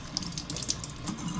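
Cold water runs briefly from a kitchen tap to wet hands for folding bread dough, a soft, close splashing trickle lasting only a moment.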